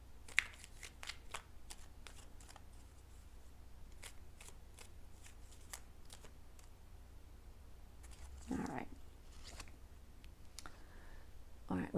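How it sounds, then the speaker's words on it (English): Tarot cards being shuffled and pulled, soft scattered flicks and riffles with small taps, quiet and close, with a couple of louder rustles near the end. "I'm going to pull a few more cards here."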